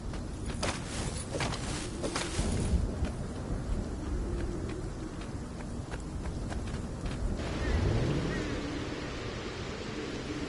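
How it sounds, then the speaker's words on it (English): Wind blows in the PS4 video game Stories: Path of Destinies as a steady, rushing hiss, with a few light taps and clicks early on and a slight swell near the end. "It was a bit windy up here."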